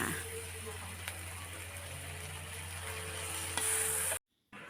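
Wild sweet leaves stir-fried with egg and canned fish in a pan, a steady close sizzle with light stirring scrapes running throughout before cutting off abruptly near the end.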